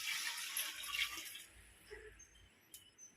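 Water is poured from a measuring vessel onto soaked rice in a large pot for a 3 kg biryani, a steady splashing pour that fades into faint drips.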